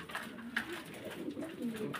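Fancy pigeons on a farm cooing softly, faint low repeated coos over a quiet background hum, fairly distant.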